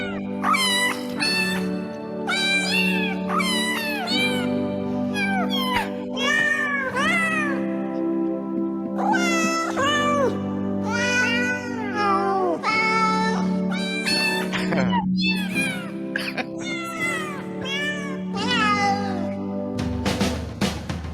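A chorus of cat meows carries the melody of Auld Lang Syne as a novelty kitty choir, with pitched, sliding meows following one another steadily and loudly over a sustained low musical backing throughout.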